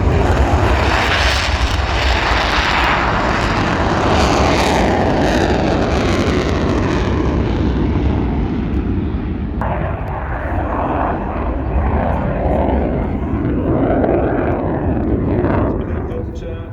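An F-16 fighter jet roars past at the RIAT airshow, a loud sustained engine rush that fades and shifts as it passes, while a commentator speaks over the noise.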